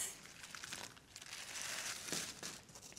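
A small plastic carrier bag is crinkled and handled up close, a quiet continuous rustle with soft crackling bursts throughout.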